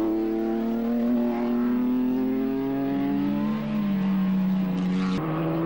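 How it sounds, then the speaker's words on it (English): A post-war BRM racing car at Silverstone holds a loud, steady engine note that slowly falls in pitch as it passes. It ends with a brief sharp shift, and no one speaks. "there we see the Right Honourable Amschel Rothschild in his BRM"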